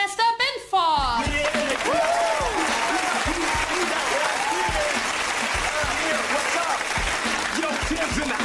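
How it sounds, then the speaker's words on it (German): A television sitcom studio audience bursts into loud, sustained applause and cheering that fills the room, following a brief announcer's voice at the start. "Applaus für LL Cool J und Grandmaster Binford."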